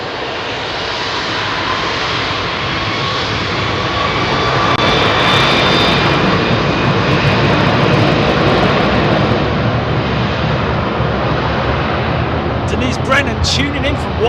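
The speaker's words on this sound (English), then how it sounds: "beautiful 777, man. That's a freighter, folks." A Boeing 777 freighter with GE90-115B engines roars steadily at Heathrow runway 27R, a loud sustained jet rumble with whining tones, with someone talking over it.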